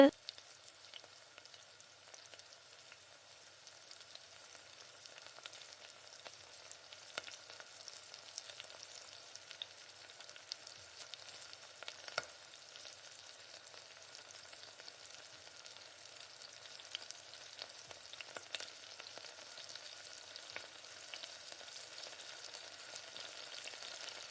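Chilli chicken pieces fry in oil, a steady dense sizzle and crackle running unbroken throughout with scattered sharper pops, no one talking over it.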